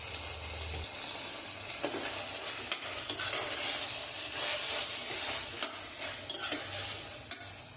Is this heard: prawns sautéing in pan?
yes